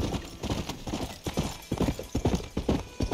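A horse walks in the Red Dead Redemption video game, its hooves making a steady clip-clop rhythm, close and fairly quiet, with no voices over it.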